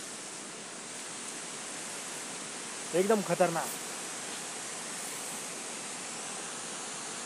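Steady broadband roar of a waterfall running with reduced flow after light rain, a continuous rushing wash that fills the whole scene, with a brief spoken remark heard over it midway.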